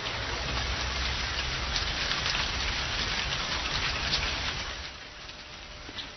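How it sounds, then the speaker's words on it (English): Heavy rain falls steadily outside as a dense, continuous hiss that eases slightly near the end, with no voices. "Outside, it had started to rain heavily."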